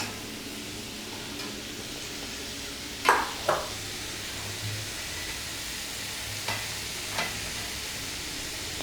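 Finely cut button mushrooms are stirred in a pan under a faint, constant sizzle, with a few soft scraping strokes. There is no voice.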